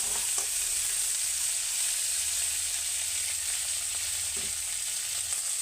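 Spices frying in an oily pan while tomatoes cook, a steady bright sizzle with a few soft stirring knocks, loud and close throughout with no talking.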